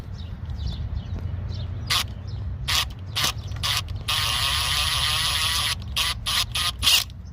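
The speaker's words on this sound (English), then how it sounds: "These bottom ones, you can get to them by hand with a ratchet or a wrench or whatever" Hand ratchet working valve cover bolts on a 2006 Toyota Tundra, passenger side, giving bursts of quick clicking pawl strokes in several short runs, close up and alone.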